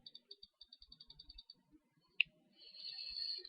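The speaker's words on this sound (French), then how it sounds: "Je clique sur OK." A computer mouse clicks on an OK button during accounting data entry, with a quick run of small, close clicks, a single sharper click, then a faint hiss.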